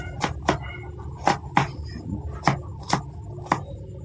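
A knife chops garlic sharply on a cutting board, seven or eight crisp close strikes in an uneven rhythm, with no one speaking.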